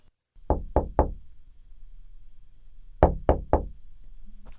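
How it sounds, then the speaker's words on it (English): Someone knocks on an office door in two bursts of three sharp, close raps, separated by a short pause, over quiet room tone. "James knocks on Mr. Barnes' door and enters his office."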